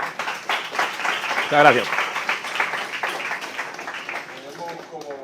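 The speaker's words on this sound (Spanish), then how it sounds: "Y vamos a darle un aplauso" Applause from students in a university classroom, a steady patter of clapping running beneath a speaker who keeps talking over it before it fades.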